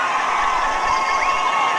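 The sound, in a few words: crowd cheering at high school football game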